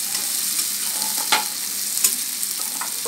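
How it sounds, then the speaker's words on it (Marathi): Drumsticks sauté in oil, giving a soft continuous sizzle with occasional scraping stirs, two of them sharper and more distinct, and no voices. "तेलामध्ये 2 मिनटं चांगले परतून घ्यायचं"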